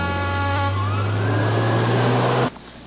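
A fire engine siren wails loudly as the truck responds to a traffic collision call, its tone sliding steadily upward before cutting off abruptly near the end, leaving a quieter engine rumble.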